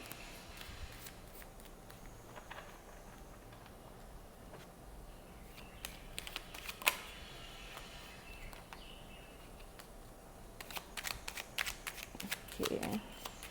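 Tarot cards shuffled and drawn by hand, soft papery riffles and flicks coming in scattered bursts, quiet and close, with a few brief brighter snaps toward the end and no speech.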